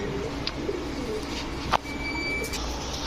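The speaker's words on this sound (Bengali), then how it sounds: "ইন্ডিয়ান রামপুরি একটা বড় মাথার নর কবুতর" A big-headed male Indian Rampuri pigeon coos softly amid a busy, noisy background, with a brief sharp knock near the middle and faint bird calls.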